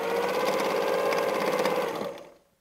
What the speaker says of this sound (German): und nähen ein Stück geradeaus